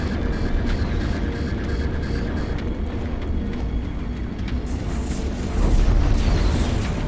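Deep, rumbling bomb blasts in the space combat game Strike Suit Zero, layered over a constant low engine hum, with a heavier booming swell near the end.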